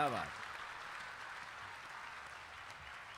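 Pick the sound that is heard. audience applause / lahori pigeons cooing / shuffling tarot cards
audience applause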